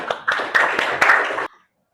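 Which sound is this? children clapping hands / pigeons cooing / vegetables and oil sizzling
children clapping hands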